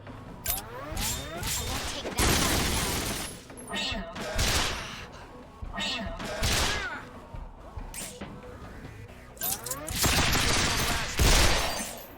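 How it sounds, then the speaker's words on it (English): Enemy gunfire in the video game Resonance of Fate, repeated loud bursts of rapid shots and crashing impacts in clusters across the scene, with short gaps between volleys. "I was trying to see if I can get a shot off before they start firing at me"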